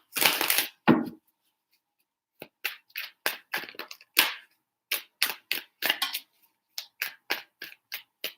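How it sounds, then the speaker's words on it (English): Quick bursts of tarot cards being riffled and shuffled, close up, in irregular short flurries separated by silent gaps. "Three shuffles for Libra."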